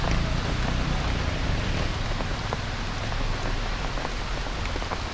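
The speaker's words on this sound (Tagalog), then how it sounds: "Inaabot na kami ng ulan." Steady rain falling outdoors, a dense even hiss of drops on surfaces with scattered louder droplet ticks, holding constant throughout with no talk.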